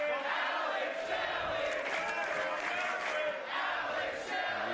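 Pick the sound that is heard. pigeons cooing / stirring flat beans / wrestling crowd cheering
wrestling crowd cheering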